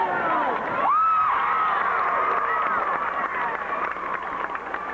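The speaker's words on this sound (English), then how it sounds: "Winona Tiger crowd being heard from." Winona High School Tigers fans roaring at a 3A state championship basketball game in Jackson against New Albany, a loud swelling crowd cheer with whistles and shouts that holds then slowly eases.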